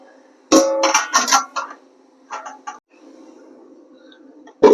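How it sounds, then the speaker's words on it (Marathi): Metal lid set on a cooking pot of chicken curry, a quick cluster of close clinks and clatters, a pause, a few lighter taps, then one more sharp clank at the end over a faint hum. "आणि याच्यावर ढक्कन ठेवून देऊया."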